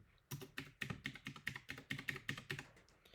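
Fingers type a short burst of about a dozen crisp keystrokes on a computer keyboard, close and clear, with no talking.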